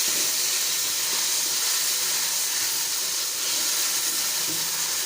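Ground medium tomato tipped into hot oil with fried ginger and garlic sets off a loud, constant broadband sizzle and steamy hiss that holds steady throughout, with no voices.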